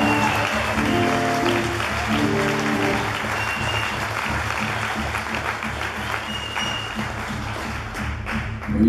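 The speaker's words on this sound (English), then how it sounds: "Can I have a big hand for Connor Down for coming to dance and join us?" A concert audience at Kulturzentrum Schlachthof breaks into loud, sustained applause for a dancer who joined the show, dense clapping over lingering musical tones and crowd noise.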